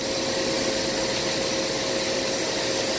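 Refrigerant recovery through gauges on a small Kairak Blu prep table system, a steady broadband whirring hiss that runs loud and unbroken without pause.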